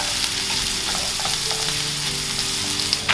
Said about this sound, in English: In a frying pan over medium to high heat, put 2 tablespoons of cooking oil. Saute onion.